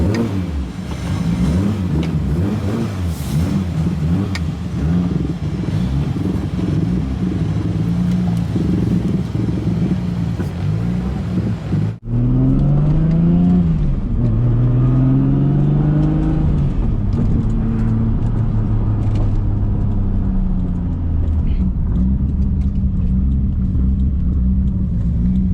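Turbocharged car with a Tial MV-R wastegate driven on dry roads, engine revving hard and climbing through gears, loud and close, with a brief break near the middle before pulling again.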